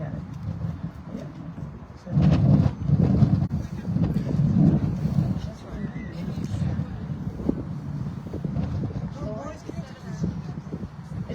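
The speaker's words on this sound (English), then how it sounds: "It's just going to be windy." Gusty wind buffets an outdoor microphone with steady low rumble, surging louder after the first two seconds, while people talk underneath.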